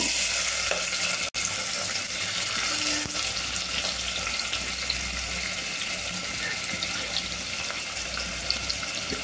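Sliced onions, green chillies and curry leaves frying in oil for a potato tomato kurma: a steady, dense sizzle runs throughout, with one sharp click early on.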